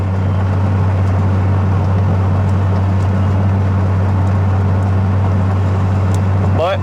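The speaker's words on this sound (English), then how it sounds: "So the car's not exactly quiet in here." Steady, loud engine drone inside a 600-horsepower VR6-swapped MR2 Spyder, a constant low hum filling the cabin without pause.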